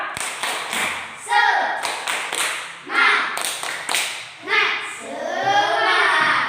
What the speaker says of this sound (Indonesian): Kita buat dulu tepuk semangat sekalian. Tepuk semangat.